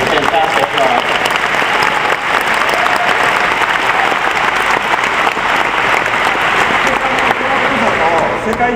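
A large audience at Nintendo's E3 2011 presentation gives the orchestra a loud, sustained ovation, thick clapping with crowd noise and some cheering running the whole length.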